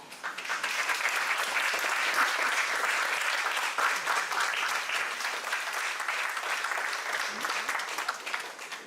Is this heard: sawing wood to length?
no